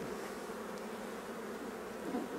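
Honeybees swarm around an opened hive during a spring inspection, a dense, steady, close buzzing hum that fills the short stretch without pause or speech.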